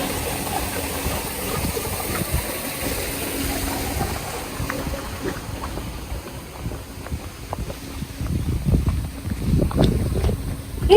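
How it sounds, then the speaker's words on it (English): Rushing water of the Dray Sap waterfall on the Serepok River gives a continuous broadband roar outdoors, with gusts of wind buffeting the microphone and swelling louder toward the end. "Now we are on the Dray Sap waterfall."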